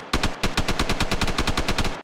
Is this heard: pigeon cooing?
no